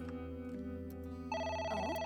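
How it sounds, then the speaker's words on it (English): A telephone rings inside a video game, a steady electronic ring tone that grows brighter partway through, heard alone over a constant background hum with no voices. "The phone is ringing."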